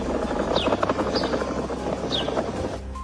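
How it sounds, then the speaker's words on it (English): Ground groaning beneath Yellowstone gives a continuous low, rumbling thrum that resembles a distant helicopter, loud and steady throughout, with faint higher chirps over it before it cuts off abruptly. "there's this guy posting clips around Yellowstone of the ground literally groaning"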